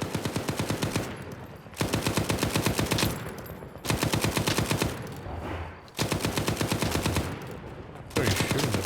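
Automatic gunfire in a zombie-themed video game: sustained rapid machine-gun bursts, loud and close, coming in several long volleys separated by short pauses.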